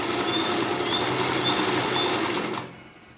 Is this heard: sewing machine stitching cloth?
yes